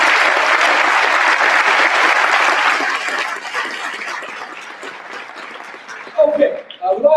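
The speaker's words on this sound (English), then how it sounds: "can we give them a big round of applause for doing so?" A conference keynote audience gives a big round of applause, dense steady clapping that gradually thins and fades before a voice begins speaking at the end.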